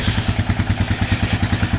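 A smoking 2000 Lakota motorcycle idles close by with a loud, loping rhythmic thump and rattling clatter, firing pulses evenly spaced and steady throughout.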